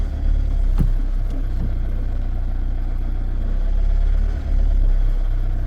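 Toyota semi-automatic car engine idling with a deep low rumble and then pulling away on a light touch of throttle, steady and close, with a sharp click near the start and no talking.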